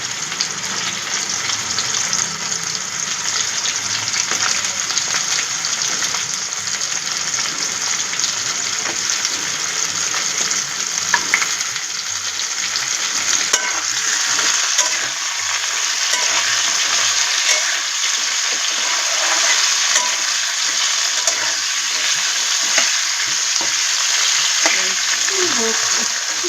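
Vegetables for Bengali shukto frying in hot oil, with green banana to be added, give off a continuous loud sizzle. Occasional scraping stirs sound close by, and a faint voice comes through now and then.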